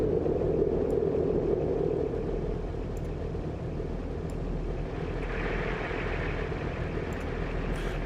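A Ford Barra engine rumbles steadily at close range, with a slight rise in pitch partway through as the revs change, no voices present.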